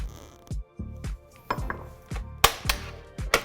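Apple oat crumble dough being mixed in a bowl, with a series of irregular thumps and knocks against the bowl, close and fairly loud, with no talking.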